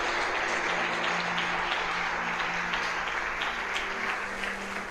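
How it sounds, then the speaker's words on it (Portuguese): Loud, continuous applause from a church congregation, dense clapping sustained across the whole span with a low hum beneath it. "Dê um aplauso mais alto a Jesus."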